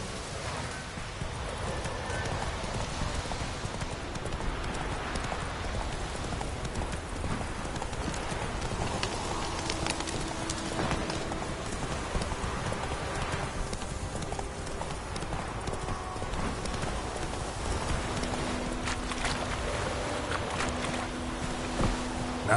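Roach, a horse in The Witcher 3: Wild Hunt, gallops at a steady pace, its hoofbeats clip-clopping continuously and evenly for the whole stretch under a constant bed of in-game ambience.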